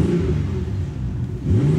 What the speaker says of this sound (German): Ich kann ja nochmal im Stand Gas geben